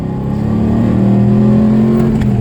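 A V8-powered Nissan D22 Navara pickup's engine drones and revs steadily up close, a loud throbbing growl whose pitch climbs slightly and holds.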